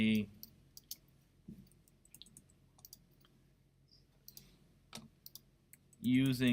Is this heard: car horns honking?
no